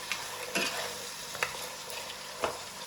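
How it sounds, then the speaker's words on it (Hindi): Mutton nihari with spices frying in a pot, a steady close sizzle with a few soft spoon scrapes and taps as it is stirred, no voices. "और इसको अच्छी तरह भून लेंगे।"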